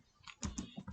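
Several quick keystrokes on a computer keyboard, close and crisp, entering a search term on a physics simulation website, with a short cluster of clicks near the end and no talking.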